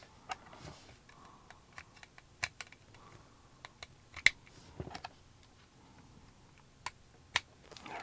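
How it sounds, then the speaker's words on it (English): Small plastic Lego wagon wheels snapped one after another onto axle points, giving sharp, close clicks scattered irregularly over a quiet background, with a few louder snaps standing out. "We're just going to carefully snap those onto each of our axle"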